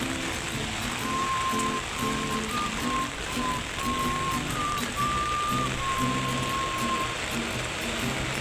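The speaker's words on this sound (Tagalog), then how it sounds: "Lakas po ng ulan ngayon." Heavy rain pours down in a dense, steady hiss, with a faint mechanical whine and low rattling underneath.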